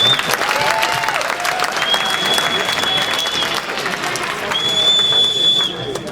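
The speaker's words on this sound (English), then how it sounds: "so if we could give a round of applause" An audience at a talk applauds, steady dense clapping from a crowd filling the room, loud and continuous, with a few voices faintly mixed in.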